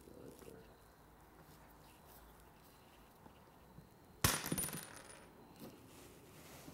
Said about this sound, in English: watch what happens when we cut the head off of this nail